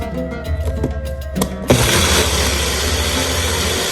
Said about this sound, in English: put it back on the blender.